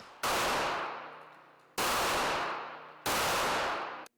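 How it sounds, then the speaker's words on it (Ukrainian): Three sharp Makarov pistol shots at a police shooting competition, spaced more than a second apart, each followed by a decaying echo; loud and close. "Стріляли з пістолета Макарова у двох раундах."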